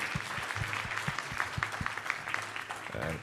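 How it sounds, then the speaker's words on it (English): A symposium audience applauds its panelists with continuous crowd clapping, moderately distant and steady, a voice breaking in near the end. "So can we just give a round of applause for them and everything they contributed?"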